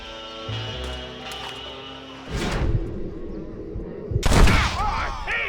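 Gunshots ring out in the Western video game Red Dead Redemption, a sharp burst of gunfire starting about two seconds in and a louder volley near four seconds, layered over a music score, with game voices speaking.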